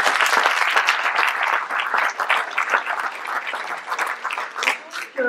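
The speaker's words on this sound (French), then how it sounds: "Je pense qu'on peut les applaudir bien fort." A crowd at a New Year's wishes ceremony in Forges de Lanouée gives participants loud, sustained applause, thick and steady clapping throughout with a few voices mixed in.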